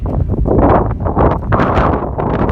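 Strong headwind buffeting the microphone on an exposed trail run, loud continuous low roaring gusts that swell and ease without pause.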